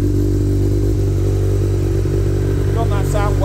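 Triumph Daytona T595 Triple fitted with a Quill exhaust, idling loud and close with a steady deep three-cylinder throb, then a short burst of revving near the end.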